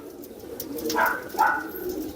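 A pigeon about 23 or 24 years old coos twice up close, two short rolling calls in quick succession over a quiet background.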